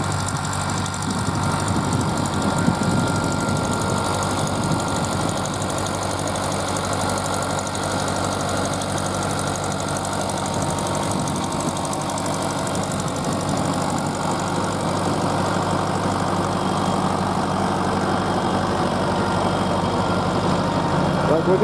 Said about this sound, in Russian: Вот сейчас плуг идет навстречу